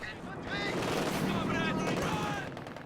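Sniper rifle shots in an online strategy video game match, dense crackling gunfire bursts sustained for a few seconds at moderate loudness.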